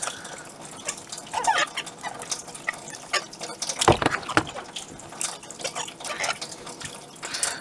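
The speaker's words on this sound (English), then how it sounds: "all right, rinse that" Water splashing and dripping as an antique accent lamp part is rinsed in a flexible plastic bucket, with irregular close trickles and drips and a louder splash burst near the middle.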